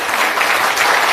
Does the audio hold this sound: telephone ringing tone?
no